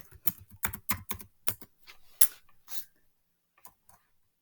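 Fingers type a title on a computer keyboard, a close, quiet run of crisp key clicks in quick bursts, then a pause and a few last taps, with no talking.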